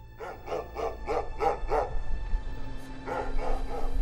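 Guard dogs bark at a high-security Russian prison, a run of six quick loud barks followed by another burst after a brief pause, fairly close over a low ambient hum.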